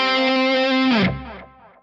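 Guitar chord through the stock room reverb model on a Mooer Minimax M1 modeller, a sustained, slightly distorted tone that stops suddenly and leaves a short reverb tail fading out.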